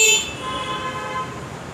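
A cheap electric scooter's horn gives a short, bright toot at the very start, then fades into a quiet background hum; no voices.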